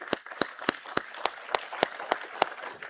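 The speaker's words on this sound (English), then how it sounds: "So a big round of applause for all of you" Sparse, evenly spaced claps sound through a quiet room at a bulk freight industry conference, about ten sharp hits in three seconds, more like a few people clapping than a full audience.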